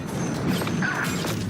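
A wall ability being raised in Valorant gives a brief mechanical grinding crash, loud and dense, with game effects layered over it.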